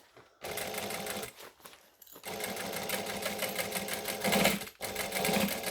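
A domestic sewing machine stitches around the corner of a fabric bag, its steady loud whir running in bursts with two brief pauses and a short stop-start near the end.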